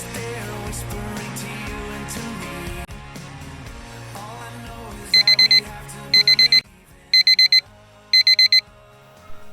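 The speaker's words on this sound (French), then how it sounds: "Mince, c'est mon réveil." An alarm clock goes off at 6:30 in the morning, sounding four evenly spaced bursts of rapid, shrill electronic beeps that cut in over music already playing in the background.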